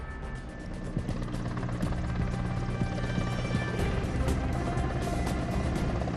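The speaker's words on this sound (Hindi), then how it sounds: "फिर वायुसेना के हेलीकॉप्टर ने फूलों की बारिश की" An Air Force helicopter passes overhead during a flower-shower tribute to medical staff, its rotor a steady, loud thudding drone over constant engine noise, with no voices.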